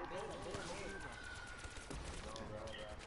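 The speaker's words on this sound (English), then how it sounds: "I got fireworks on my gun." In a zombies video game, a gun with a fireworks effect fires in dense, rapid bursts of crackling pops, continuous and busy, with a voice talking faintly underneath.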